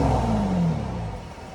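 A van engine, rebuilt with a tune, emissions delete and custom exhaust, revs briefly and then settles, a deep rumbling drone that slides down in pitch and fades.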